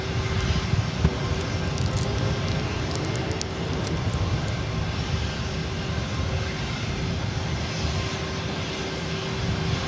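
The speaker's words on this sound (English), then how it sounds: "It's an A320." An Airbus A320 jet taking off from LAX, its engines a steady, loud broadband roar with a low rumble sustained throughout, no voices.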